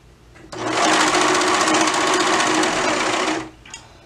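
Sewing machine stitching a dress sleeve runs in one steady, loud burst of about three seconds, starting and stopping abruptly, with no talking.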